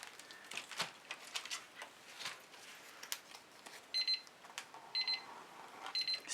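A timer sounds in a painting studio during a fluid acrylic pour, giving three short, faint bursts of bright beeping against quiet background rustle.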